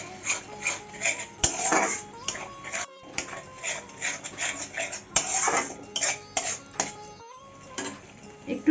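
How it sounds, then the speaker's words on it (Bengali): Masala spice paste being fried and stirred in a pan with a splash of water, heard as repeated scraping and clinking of a spoon against metal in uneven bursts, close and moderately loud, with faint background music. "এখন ভালো করে মশলাটা কষিয়ে নেব।"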